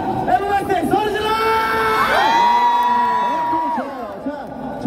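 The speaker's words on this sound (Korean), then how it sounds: "자, 에버가이스 소리 질러!" A crowd at a Sinchon street K-pop busking show shouts and cheers loudly, whoops and high shrieks layered over a steady roar that swells and holds for the whole span.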